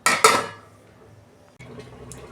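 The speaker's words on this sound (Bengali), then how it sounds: "ঢাকনা খুলছি।" A lid clatters off a pot of mango fish curry, two sharp metallic clanks up close followed by a faint simmering bubble.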